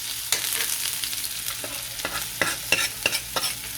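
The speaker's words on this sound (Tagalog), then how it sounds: "Yan, magigisa lang po tayo. Sibuyas." Sliced onions sauté in hot, smoking oil in a pan for a Bicol fiesta dish. A steady sizzle runs throughout, broken by sharp scraping stirs of a utensil against the pan at irregular intervals.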